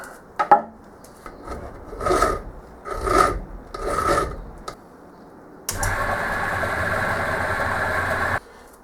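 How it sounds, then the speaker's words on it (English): A hand file works a metal compound slide part for a lathe: a few separate rasping strokes with pauses, then one long, steady, louder stretch of filing that stops abruptly. "Okay, looks like I am going to need the file."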